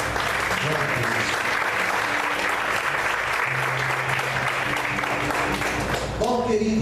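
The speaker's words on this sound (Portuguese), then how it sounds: "Você pode aplaudir ao Senhor." Steady, full applause from a church congregation during an Easter service, dense clapping held evenly throughout, with faint voices and a tonal sound emerging near the end.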